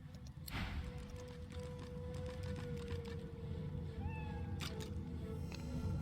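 In the video game Divinity Original Sin II, a cat meows in short rising calls over a steady low background hum.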